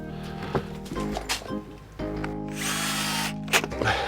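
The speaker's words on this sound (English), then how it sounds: "We can just screw it straight away in the middle, same trick as before." A power drill drives long screws into the middle of timber boards for a privacy fence built on top of a brick wall, with loud whirring bursts starting and stopping close by.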